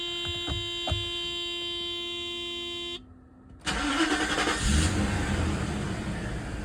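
A Mercedes W124 engine cranks and catches after a steady electronic chime, then settles into a loud, rough idle that continues close by to the end.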